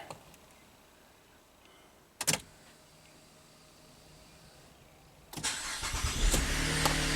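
A car engine is cranked and fires up after a quiet stretch and a brief click, then settles into a loud, steady idle with rumbling low-end.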